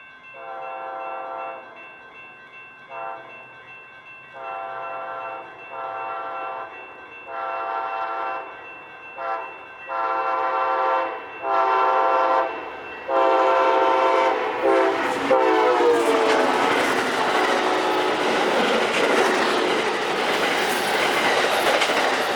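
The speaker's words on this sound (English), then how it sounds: "Here comes Amtrak 14, the Coast Starlight to Seattle with the Amtrak Heritage Unit number 301 leading under the cover of darkness." Amtrak 14, the Coast Starlight to Seattle, led by Heritage Unit 301, approaches at night sounding a long series of loud horn blasts, then roars past with rushing, clattering wheel noise.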